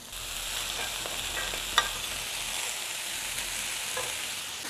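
Cabbage hits a hot pan and is stir-fried with chicken for spring rolls, giving a steady, loud sizzle with a few soft stirring scrapes and one sharp clink near the middle.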